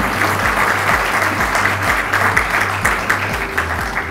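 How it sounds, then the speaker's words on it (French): Audience applause at a conference session, a dense, steady burst of clapping from a large crowd, loud and continuous throughout. "On peut applaudir, en effet."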